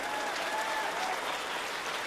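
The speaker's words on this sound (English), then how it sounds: "One more big round of applause for all of them." Audience at a children's chorus concert applauding its choir graduates, a dense, even wash of clapping throughout with no voices over it.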